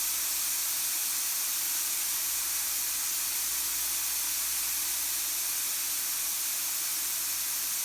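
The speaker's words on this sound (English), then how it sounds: "Now we will just grill it." Pork cooking Korean BBQ style on a grill gives a steady, even sizzling hiss that runs without a break, with no talking.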